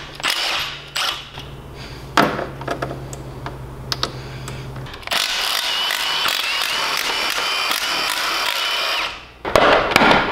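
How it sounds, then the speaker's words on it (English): A power tool, likely an impact driver, backs out the ten side cover bolts on a 440cc small engine block during a build, sounding as close, repeated mechanical bursts with a steady whir through the second half. "we can remove our 10 bolts from the side cover and get that crank"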